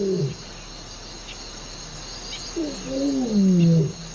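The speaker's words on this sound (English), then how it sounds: "a lion's roar" A lion roars at dawn in the African wild, a deep rising and falling roar emerging in the second half over a steady chorus of crickets and birds.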